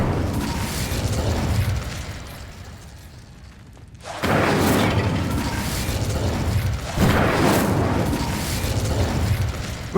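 An Incendio fire spell is cast in Hogwarts Legacy. A whooshing, crackling magical blast sounds, dips to near quiet, then erupts again in two strong bursts with a mechanical clatter under them.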